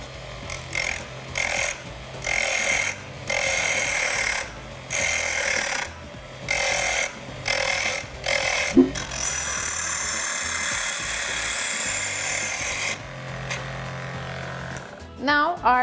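Hand-shaping a wooden sailboat cylinder, rhythmic rasping strokes of a file or rasp on wood in regular bursts, close and fairly loud, then a steadier scraping stretch near the end.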